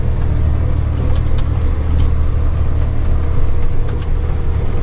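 A tractor engine pulls uphill in a low gear on a forest track, a loud, steady, close rumble that holds without a break, with faint rattles on top and no voices.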